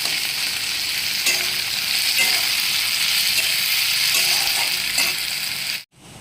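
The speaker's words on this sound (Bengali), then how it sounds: "এবার এটা হলুদ ছাড়াই খুব ভালো করে ভেজে নেব" An ingredient fries in hot oil without turmeric, giving a loud, steady sizzle with occasional stirring scrapes, cutting off abruptly just before the end.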